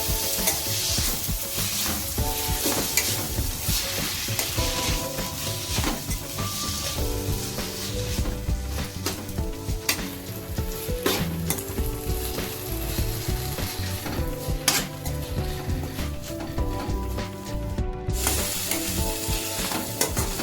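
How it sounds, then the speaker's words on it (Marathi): Crushed green chili thecha with coriander sizzles and crackles steadily in hot oil, a dense, continuous frying hiss with faint stirring scrapes throughout, close and fairly loud, with no talking. "ठेचून घेतलेला ठेचा आपण थोडासा तेलात परतून घेऊया"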